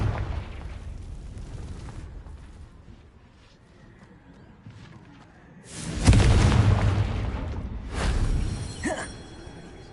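A Confringo blast spell in Hogwarts Legacy goes off as a loud booming explosion after a quiet stretch. A second, weaker burst follows about two seconds later, then a short crackle.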